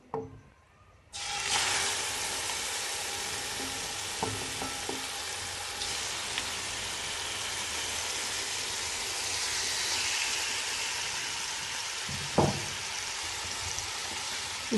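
Marinated chicken pieces sizzle steadily in a little oil in a kadai, a dense continuous frying hiss from start to end with occasional small pops and a stir or clink.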